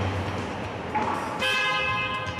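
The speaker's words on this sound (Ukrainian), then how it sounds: "Клаксон теж." A truck horn blares once, loud and close, over a continuous engine rumble.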